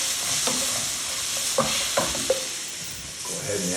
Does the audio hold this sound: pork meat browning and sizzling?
yes